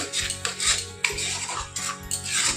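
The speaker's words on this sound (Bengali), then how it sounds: "একটু অল্প করে গরম জল দিয়ে দিয়ে মশলাটা খুব ভালোভাবে কষিয়ে নেবেন।" Spice paste with cashew paste and yogurt stir-fried in a pan for mixed vegetables, a spatula scraping and rubbing steadily against the metal in repeated strokes, close and loud, no talking.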